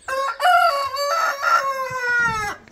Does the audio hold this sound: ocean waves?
no